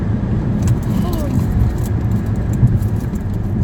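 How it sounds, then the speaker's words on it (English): A car drives in traffic with a steady low engine and road rumble inside the cabin, continuous and fairly loud. "Oh great, traffic has begun."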